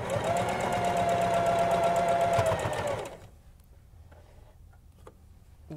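Sewing machine stitching elastic onto a fabric mask, a loud continuous fast whirring run for about three seconds, then it stops, leaving quiet room sound with faint clicks.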